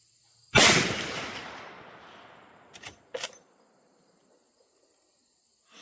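A single loud shot from a Henry lever-action .357 Magnum firing Hornady American Gunner ammunition, with a long fading echo, followed a couple of seconds later by two sharp metallic clicks.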